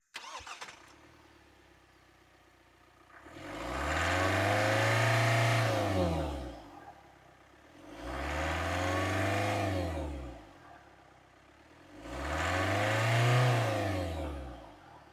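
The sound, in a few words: car engine revving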